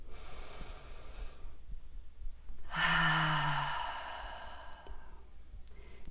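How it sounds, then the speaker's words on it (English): A deep meditative breath: a long, soft inhale, then a fuller, louder exhale like a sigh, close and alone with no talking. "Go ahead and take a deep inhale."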